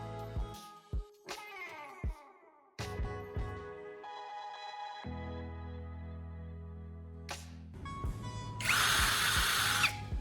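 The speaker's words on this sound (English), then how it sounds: "Then, using sandpaper pressed against the spinning tip, I'm refining it." An electric drill spins a carbon rod tip held in its chuck against pressed sandpaper, giving a steady motor whine that starts and stops, with bursts of high abrasive sanding hiss near the end.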